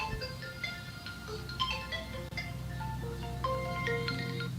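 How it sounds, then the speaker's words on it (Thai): A phone ringtone for an incoming call plays as a busy, melodic electronic tune of bright repeating notes, moderately loud and steady throughout, with no talking. "มีโทรศัพท์มาก่อนเนอะ"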